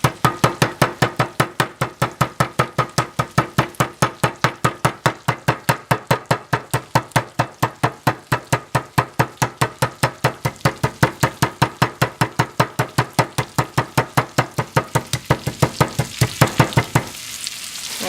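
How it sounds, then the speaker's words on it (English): Chicken meat under cling wrap pounded flat with a mallet, a steady fast train of loud, close thuds running about seventeen seconds without pause, then stopping abruptly. "And then I start pounding so the meat doesn't splatter everywhere."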